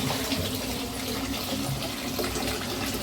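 Tap water pours steadily over fish being washed in a sink, a constant close splashing rush without any talking.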